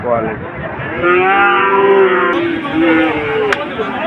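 A cow of a fairly good breed at a border cattle market gives a loud, drawn-out moo close by, then a second lowing call, over a constant market din.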